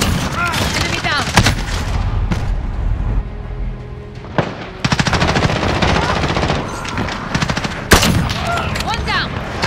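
Rapid automatic gunfire bursts and heavy booms in a shooter video game, loud and dense with short pauses between volleys, as voices talk over the action.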